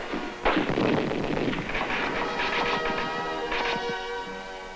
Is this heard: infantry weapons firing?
yes